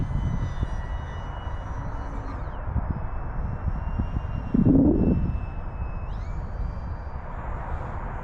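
Electric motor of a Kavan Alpha 1500 RC powered glider in flight, a steady high whine drifting in pitch as it loops and maneuvers overhead, with wind noise and a brief louder gust-like swell partway through.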